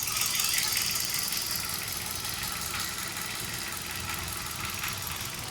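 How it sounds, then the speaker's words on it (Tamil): A 2019 Hyundai i20 Sportz engine idles steadily, a constant, even mechanical hum with a faint rattly texture that holds at the same level throughout, close by with no talking. "இப்போ இன்ஜின் ஸ்டார்ட் பண்ணி ஐடில் விட்டுருக்கேன்."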